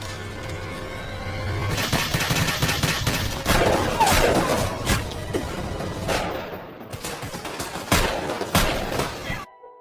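A gunfight in the action film High & Low erupts in loud, dense volleys of rapid gunshots mixed with shattering and breaking debris, easing off briefly before another burst near the end.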